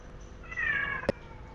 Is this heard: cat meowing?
yes